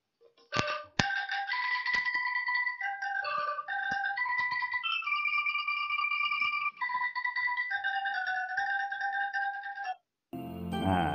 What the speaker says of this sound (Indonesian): Nah, ini tadi bunyi angklung.